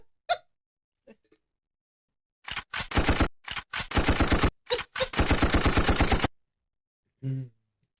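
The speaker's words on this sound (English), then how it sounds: "let's put some gunshots before Alex goes to sleep." Bursts of rapid gunfire, several rattling volleys with short gaps between them, loud and close, with a few isolated shots before and after.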